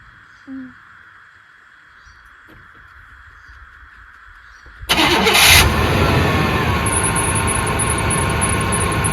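Old Chevy OBS ranch truck engine cranks and fires up midway, then settles into a loud, steady running rumble close to the microphone after a quiet stretch.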